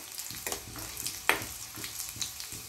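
Dried red chillies and garlic frying in a pan for a kabuli chana gongura dish, a soft steady sizzle with faint stirring scrapes, heard alone at low level.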